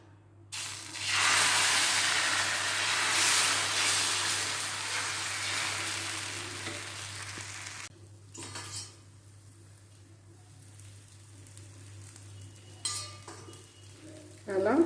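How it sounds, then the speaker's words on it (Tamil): Onion rava dosa batter hisses and sizzles loudly on a hot iron griddle for several seconds. The sizzle then fades to a quieter crackle, with a few scraping and clinking utensil sounds. "இரும்பு தோசைக்கல்ல தான் நான் வாத்திருக்கேன்"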